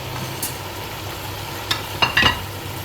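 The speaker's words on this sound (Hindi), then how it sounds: "प्याज और टमाटर को भूनते हुए हमें 5 मिनट हो गए हैं" Onion and tomato with crushed chili, ground chili and turmeric frying for mutton kaleeji, a steady low sizzle with a few brief spoon scrapes and clinks near the end.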